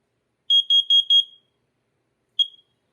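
Smoke detector alarm sounding during a test: four quick piercing high-pitched beeps in a row, then a pause and one more beep, loud and close in an otherwise silent room.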